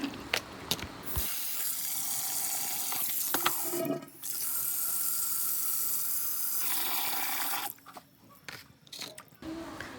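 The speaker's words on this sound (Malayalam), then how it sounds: "നമ്മൾ ചിക്കന് നല്ല കഴുകി വൃത്തിയാക്കി ഒരു പാത്രത്തിലേക്ക് മാറ്റിയിട്ടുണ്ട്" Tap water runs steadily into a sink while raw chicken is washed and cleaned of feathers for a fried chicken roast, a continuous close splash with brief pauses and clatter near the start and end.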